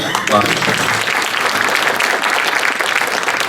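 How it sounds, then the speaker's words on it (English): Audience applause fills the room, a dense, steady wash of clapping from a crowd that holds at one level for a few seconds. "how about a round of applause for Flip for the wonderful."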